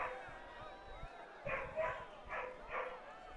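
A German shorthaired pointer barks four times in quick succession, somewhat distant, over a low background hum.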